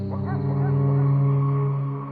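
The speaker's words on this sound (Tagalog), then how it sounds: "Ang lakas namang umalulong nitong aso ng mga kapitbahay." A neighbours' dog howls at night with a long, loud, sustained wavering cry close by, lasting about two seconds with no other sounds around it.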